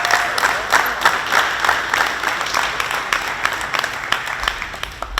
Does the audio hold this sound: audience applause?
yes